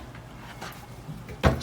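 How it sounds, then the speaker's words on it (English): A short wooden slide and thump near the end, a hotel room drawer being pulled open, after a moment of quiet room noise. "I'm gonna guess these drawers are empty"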